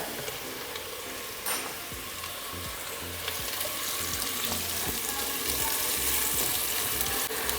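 Mushrooms dropped into garlic frying in a pan, a continuous close sizzle that swells slightly as they land, with scattered light scrapes and clicks; no talking.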